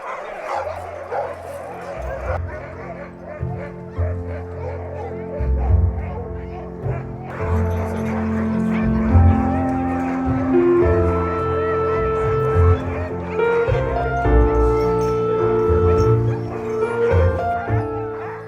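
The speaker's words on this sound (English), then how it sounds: "Around 60 huskies live on the Engholm farm." Huskies on the Engholm farm in Norway bark, yip and whimper together in a loud, busy chorus, overlapping calls rising and falling close by with no pauses.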